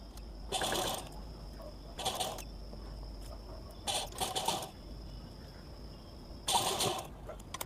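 A sewing machine runs a straight stitch across the pinned main fabric of a baby girl's top made from a saree blouse piece, in four short whirring bursts with quiet pauses between them.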